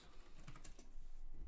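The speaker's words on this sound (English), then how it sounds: "Sometimes typing is faster than picking up." Keys tapped on a computer keyboard during a LEGO building session, a short run of soft, quick clicks close by with no talking.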